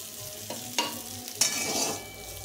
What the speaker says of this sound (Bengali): এখন আমি এই করলাগুলো ডালের মধ্যে দিয়ে দেবো।